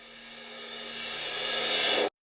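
A reversed crash cymbal hit made in GarageBand swells from a quiet hiss into a bright, loud wash, then cuts off abruptly after about two seconds.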